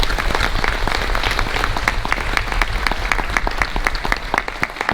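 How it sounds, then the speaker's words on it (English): A conference audience applauds, dense steady clapping from many hands filling the room loudly and evenly throughout, with no voices on top. "give a round of applause to our"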